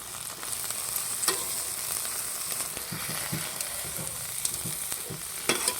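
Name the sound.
string beans being sautéed in a pan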